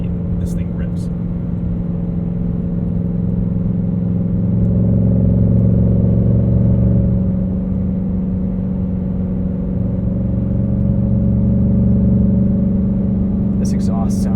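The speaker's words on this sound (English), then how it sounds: "This exhaust sounds so good." Mustang exhaust under acceleration, a deep, steady rumble that swells in the middle and stays close and loud, without harsh drone, with faint clicks at the start and end.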